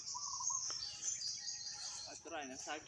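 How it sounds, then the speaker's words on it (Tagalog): Wild birds calling in a forest hunting spot, high thin chirps and whistles running steadily through the clip, with a few voices talking nearby toward the end. "Daming mga ibon dito mga kantos."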